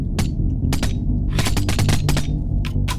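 An MP5 submachine gun fires in a modded Minecraft game, loud rapid bursts of close shots in quick irregular clusters, with no talking over them.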